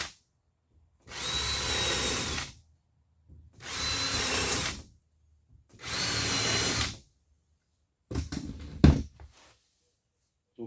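A power drill bores into wood studs during bathroom plumbing work, three separate whirring bursts of about a second and a half each with silent gaps between them, then a short clattering mechanical knock at the end.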